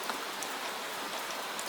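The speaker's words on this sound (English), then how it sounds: "The rain touches you again." Gentle rain falls at night, an even, close, continuous patter of drops on hard surfaces, with no voices.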